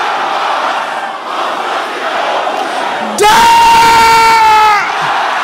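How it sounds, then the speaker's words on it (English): A large church congregation at a deliverance prayer meeting roars a prayer together in one loud, sustained shout that swells suddenly over a continuous noisy crowd background, then fades back into general din. "Can I hear you shouting this loud and clear?"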